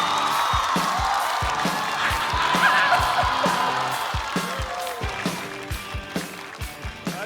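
Crowd applause with whoops and cheers fills the room at a stand-up comedy show as a manzai duo is called on stage, the clapping loud and dense, then easing off while rhythmic beats carry on beneath it.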